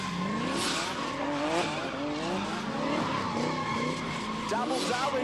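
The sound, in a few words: car doing double doughnuts, tires skidding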